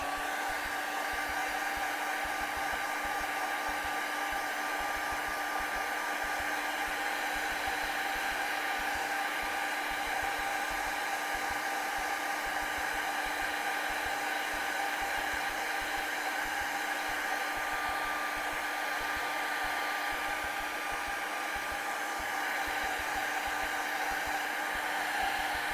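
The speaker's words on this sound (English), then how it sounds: "Use the blow dryer." A blow dryer drying wet acrylic paint on a canvas runs at a constant, loud, even whir for the whole stretch, with no voices over it.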